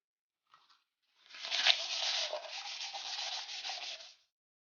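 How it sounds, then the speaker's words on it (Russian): A coconut shell pen stand is sanded by hand: after a brief scrape, a dry, raspy rubbing runs steadily for about three seconds in quick back-and-forth strokes, close and isolated against silence. "И опять-таки надо немножечко это все зашлифовать"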